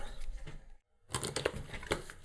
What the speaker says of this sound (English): I get to shuffle now